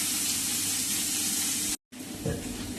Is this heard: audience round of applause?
no